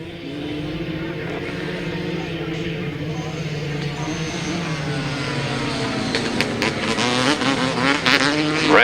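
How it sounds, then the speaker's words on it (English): Grasstrack racing motorcycle engine at a 600 meeting, throttle wound up through a turn, a loud sustained droning engine note that rises in pitch and intensity toward the end, with other bikes audible around it. "Round the turn then, winding up the throttle."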